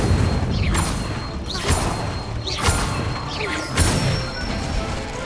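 Magical spell effects for Incendio, Levioso and Accio in the video game Hogwarts Legacy burst out in a steady rhythm, about five loud whooshing crashes roughly a second apart over a constant rumbling background.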